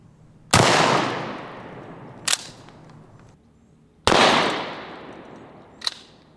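Shotgun fires S.O.B. slugs into a ballistic test block: two loud, close blasts several seconds apart, each with a long rolling echo and a sharp smaller crack following a couple of seconds later.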